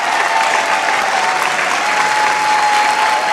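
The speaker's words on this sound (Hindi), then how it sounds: "जोरदार ताली से स्वागत करें" Steady, dense audience applause welcoming a dancer onto the stage at a dance competition show, loud and continuous throughout with no speech.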